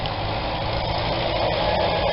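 An International 450 tractor engine idles steadily, a dense, continuous low rumble with mechanical clatter that stays even and loud throughout, with no voices.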